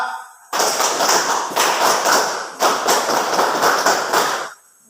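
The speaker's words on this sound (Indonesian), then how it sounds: "Satu kalinya, tepuk tangan pramuka." A group performing the rhythmic Indonesian scout clapping pattern, tepuk tangan pramuka, loud and close, with bursts of many hands clapping together in a patterned sequence that breaks briefly and resumes, then stops.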